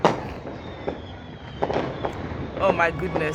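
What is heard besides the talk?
fireworks going off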